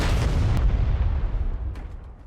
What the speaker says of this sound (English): Big explosions there. That was a C4.